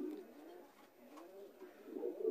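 Beauty Homer and Lahori Sirazi pigeons coo softly in a loft, a low rolling murmur that swells and fades, fairly quiet and near, growing a little louder toward the end.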